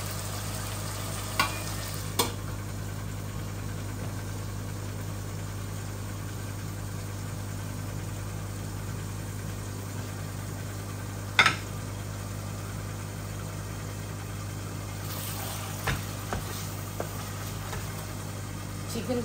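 Dried fish (shutki) frying in a pan gives a low, steady sizzle over a constant hum, broken by a few sharp clinks of stirring.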